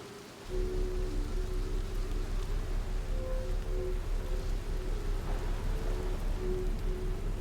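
Steady, loud rain from the Outer Wilds video game, a dense wash of falling water that keeps going evenly with no pauses and no voices.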